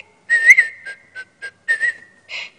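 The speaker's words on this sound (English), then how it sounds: "Just whistle while you work." Someone whistles a short, bright tune, a few sustained notes and quick chirpy phrases with brief pauses, clear and close.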